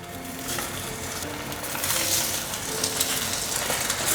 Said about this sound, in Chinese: 把豆包放进来煎